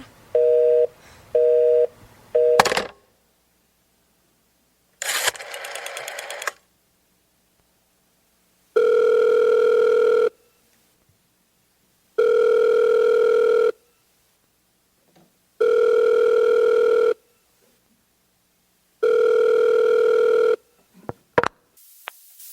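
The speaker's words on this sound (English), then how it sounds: "I've been dialing Murray Hill 70093 now for the last 3/4 of an hour, and the line is always busy." Telephone busy signal from a radio drama, a steady two-tone buzz pulsing on and off in four long even bursts, preceded by short dial tones and a burst of line noise, with no talk.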